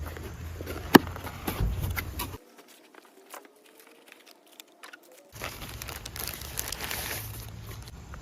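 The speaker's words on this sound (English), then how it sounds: "Let's open up the box." Packaging for a Fahren wireless CarPlay unit crinkles and rustles as the box is opened, close up with a sharp tap near the start, then a few seconds of near silence before the crinkling resumes.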